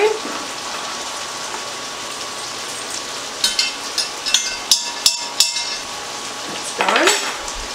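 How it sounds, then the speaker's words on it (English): Tomato paste stirred while cooking in a pan for red wine short ribs: a soft sizzle runs throughout, and a cluster of sharp utensil clacks against the pan comes near the end. "We're going to stir that around."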